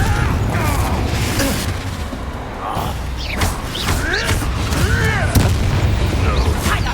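Spell explosions from Bombardo and Confringo in the Hogwarts Legacy video game, loud repeated booms and blasts over dense game effects, with a voice calling out at times.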